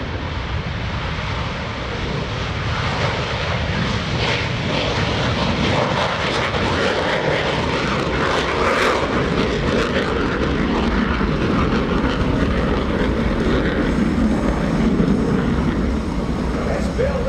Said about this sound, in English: Listen to the sound of these engines.